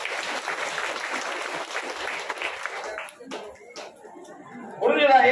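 An audience at a Prathiyangira Devi Aadi Amavasai homam claps, a dense burst of applause that fades into quieter crowd murmur before a louder flurry of clapping returns at the end.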